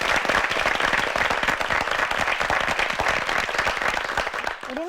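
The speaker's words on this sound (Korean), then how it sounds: "박수로 함께 해주시죠." Audience applause at a high school debate contest, steady dense clapping that fills the hall at close range and stops abruptly at the end.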